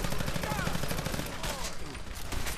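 Fallout 4 pistol fire during the Battle of Bunker Hill: dense, loud, rapid shots blending into a continuous barrage, with a voice speaking underneath.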